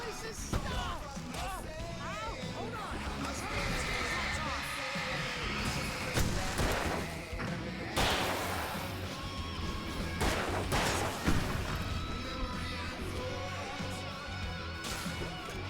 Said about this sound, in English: I'm gonna do a flashbang